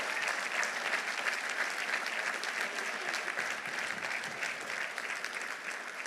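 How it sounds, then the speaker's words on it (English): An audience at a college commencement ceremony claps after a poem is read, giving steady, dense applause that holds at an even level throughout, with no voices standing out. "Give poetry a round of applause."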